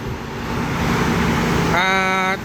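Traffic on four-lane Highway 304 rushing past as a broad, steady roadway roar that swells slightly, with a vehicle's rising tonal whine or horn near the end, heard without talk.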